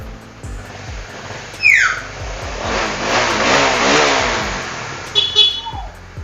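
A 2017 Kawasaki Ninja 250 sport motorcycle engine revs up and settles, rising and falling in pitch with a loud surge mid-way, idling rhythmically at the start and end.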